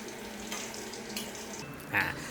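Steady sizzling of chicken frying in hot oil in a stainless steel pan, with a brief louder crackle and scrape near the end.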